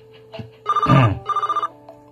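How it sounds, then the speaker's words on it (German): A mobile phone rings in a video game, two bursts of a warbling electronic trill, loud and close, with a brief lower tone between them and no talk. "Sorry, mein Handy klingelt schon wieder."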